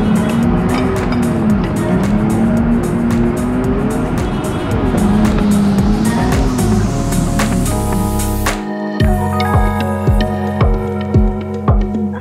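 Go-kart engines race around an indoor track at a Manila hangout spot, a loud steady motor drone with rising and falling pitch, then a run of rapid rhythmic engine pulses near the end.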